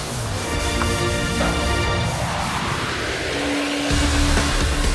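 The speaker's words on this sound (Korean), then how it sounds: "온 집안 바닥을 말끔하게 닦을 땐 특수 장비를 사용해야 합니다. 닦고 빨고 쓸고 세 가지를 한꺼번에 할 수 있습니다." A floor scrubbing machine that scrubs, vacuums and sweeps at once, working on a floor during a move-in house cleaning, a loud steady motor whine and whirring hum running continuously up close.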